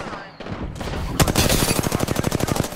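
Gunfire in Apex Legends, starting with a couple of scattered shots and then a rapid automatic burst of evenly spaced loud rounds lasting over a second, with faint game sounds before it.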